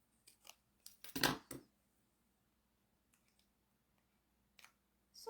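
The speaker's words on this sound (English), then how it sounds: "Just cut little thin strips here." Scissors snip thin strips of paper in a quiet craft setting, a cluster of soft close cuts followed by a pause and a few faint later snips.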